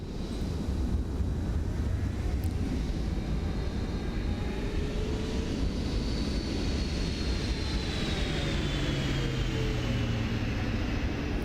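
A PMDG 777-300ER airliner landing in MSFS 2024: a steady, loud roar of engines and rushing air runs throughout, with faint whining tones sliding up and down over it.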